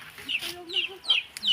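Short, close chicken clucks come in a few quick bursts, with a faint voice in the background.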